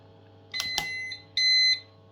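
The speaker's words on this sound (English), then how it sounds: "Now we can enable the alarm." A high-powered power supply's alarm gives two quick electronic chirps followed by a longer steady beep, close and clear against a low hum.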